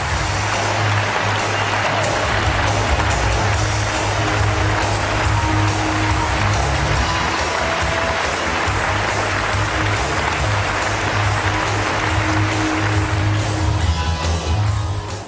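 A studio audience on a Pakistani television talk show gives sustained, even applause to welcome hotelier Byram D Avari, a dense wash of clapping that holds at steady loudness for the whole stretch.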